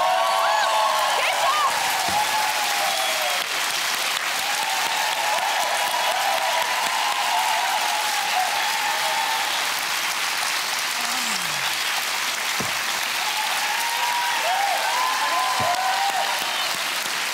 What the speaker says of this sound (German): Ah, so viel Applaus im ZDF.